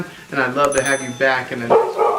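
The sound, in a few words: dog barking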